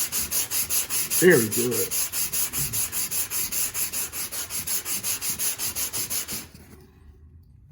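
A Tool Shop orbital sander grinds steadily across a drywall repair patch in a loud, continuous rasping whir with rhythmic pulses, then abruptly stops near the end, followed by a brief spoken comment.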